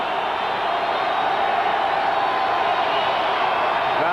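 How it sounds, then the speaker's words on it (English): Loud, steady roar of the stadium crowd at a 1986 Cincinnati Bengals at Denver Broncos NFL football game, a dense, unbroken wall of noise from thousands of fans with faint whoops mixed in. "Crowd noise intense for Esiason on second down and 10"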